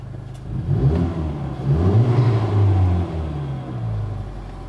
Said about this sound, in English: Start her up with the push button.